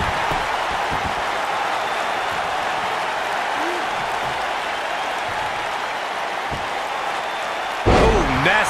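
A loud stomp impact hits near the end of a long stretch of steady arena crowd noise in the WWE 2K19 wrestling video game, with faint commentary underneath.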